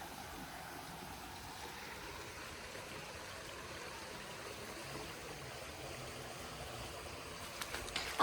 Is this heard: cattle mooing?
no